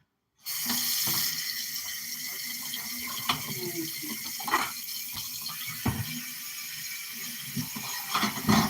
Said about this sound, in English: for now I gotta scrub my potatoes